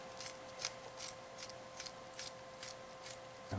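Vegetables are slit up the middle while being prepared for a whole wheat chop suey, giving about nine crisp, evenly spaced snipping cuts close up with no talk.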